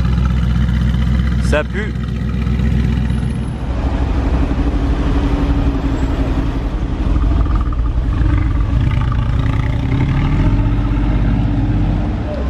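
A Lamborghini Veneno idling up close: a loud, deep, throbbing rumble that holds steady throughout, with a sharp high chirp early on and a brief spoken remark over the engine.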